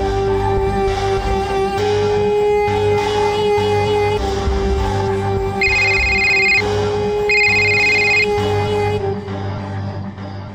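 A telephone rings loudly and steadily with a repeating electronic ring pattern, with no voices over it, then the ringing stops abruptly as the call is cut off at the end.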